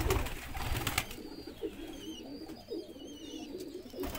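Lall Shirazi pigeons in a breeding setup give soft, low cooing calls in short repeated bursts, fairly faint and close, with a few thin higher chirps and some handling noise around them.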